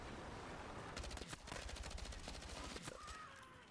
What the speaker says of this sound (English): This gun has some amazing hip fire